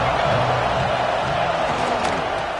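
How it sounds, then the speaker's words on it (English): A stadium crowd roars at a Georgia college football game against Missouri, a steady dense wall of cheering and noise filling the whole stretch, with a commentator's voice faintly under it. "This crowd ready to make its presence known."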